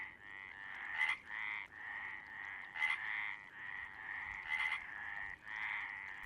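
Frogs croak at dusk across a lake in mating season, a loud chorus of rhythmic, rattling calls repeating in steady pulses, nearby and alone with no other sounds.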